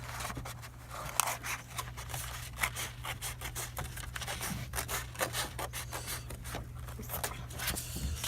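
Scissors cut steadily through folded paper, giving a run of soft rasping snips and scrapes, close but quiet, over a constant low hum.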